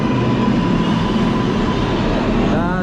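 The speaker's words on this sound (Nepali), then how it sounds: "खै ट्रेन ओ हिँडेछ गइरहेको" A New York subway train pulls away underground with a loud, steady rumble and rail roar that fills the station, and a faint squeal rises near the end.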